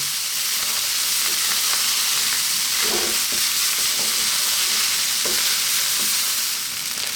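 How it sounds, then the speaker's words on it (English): Steady, loud sizzling of vegetable fried rice in a hot pan, with a few soft scraping stirs breaking through the continuous hiss. "That's actually the rice frying away."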